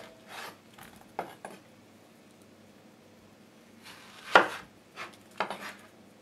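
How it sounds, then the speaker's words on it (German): A knife slicing down through a ripe mango past the pit, heard as a few sparse, close scraping and cutting strokes with a sharper crunch near the middle, set against quiet kitchen background. "schneiden die Mango einmal runter, am Kern vorbei."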